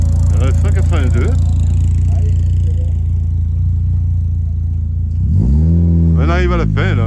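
Rally cars at the Rallye des Vignes 2025 running as a loud, steady engine drone throughout, with a car audibly revving and accelerating past near the end while someone talks over it.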